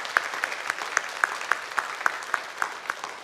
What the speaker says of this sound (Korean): 우리 박수로 서로 축복했으면 좋겠습니다